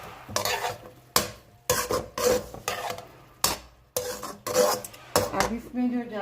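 Halved small green chilies go into a hot pan for a chicken and baby corn dish, bringing repeated bursts of scraping spatula strokes and clattering cookware over a steady sizzle.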